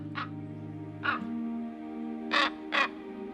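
A wild crow caws four times in a European wilderness setting: two single caws spaced apart, then a quick pair near the end, over a steady low hum.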